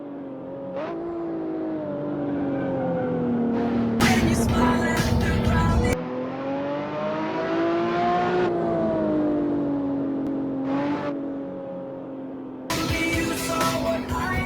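A BMW roadster races flat out down a track straight, its engine note climbing steadily in pitch through each gear, with brief harsh shift breaks and a loud, close, sustained roar throughout.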